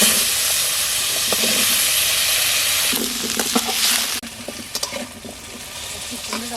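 Potatoes fry in salted mustard oil in a wok with a loud, steady sizzle that thins after a few seconds, leaving intermittent clinks and stirring scrapes over the crackle.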